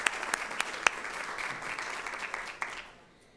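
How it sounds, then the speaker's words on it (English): Audience applause at a Broward County Public Schools awards ceremony honoring student exam achievements; a brief burst of clapping with a few sharp claps, fading out after about three seconds. "Let's give him a round of applause."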